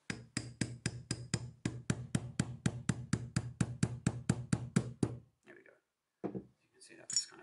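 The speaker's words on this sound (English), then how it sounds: "I'm just going to tap it with a nylon hammer" A nylon hammer taps a Hope Pro 4 rear hub axle to drive out a bearing, striking in a steady run of about seventeen evenly spaced, close, sharp knocks, followed by a few quieter scrapes and clinks.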